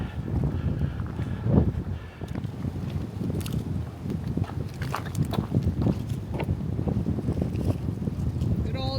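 Gusty wind buffets the microphone in rough, uneven bursts throughout at Seneca Rocks, West Virginia, loud and close, with no one speaking.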